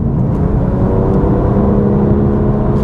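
Engine of a BMW M2 Competition revving up steadily as the accelerator is lightly brushed, a loud, continuous rising drone heard from inside the car with no talking.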